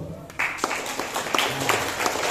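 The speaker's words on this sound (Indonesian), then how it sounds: "tepuk tangan dulu" A crowd applauds steadily at a school Isra Mi'raj event, broadband clapping sustained throughout with a few voices mixed in.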